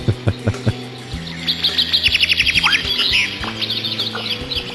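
Aggressive bird calls in the video game Alone in the Dark: a few sharp clicks, then fast rattling chirps and squawking trills, loud and close, layered over a sustained low musical drone.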